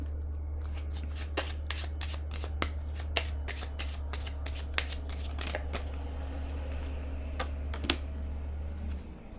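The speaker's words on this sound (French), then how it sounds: "Je vais déposer une carte ici." A tarot-style card laid down on a table during a French card reading, with soft papery snaps and slides scattered through the passage, close and fairly quiet over a steady low hum.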